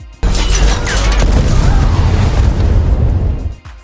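A warehouse explodes in an action film, a sudden loud boom that erupts after a brief pause and roars on as a sustained, rumbling blast with crashing debris before tailing off.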